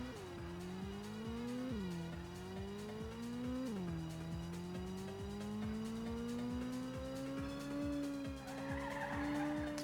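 A Ridge Racer race car on the PlayStation 1, its engine whining and rising through gear changes with screeching tire skids, loud and continuous with no voices.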